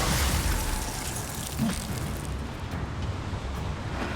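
A Confringo fire-blast spell in Hogwarts Legacy goes off as a muffled explosive burst with a boom, followed by rumbling wind-like ambience, no voices.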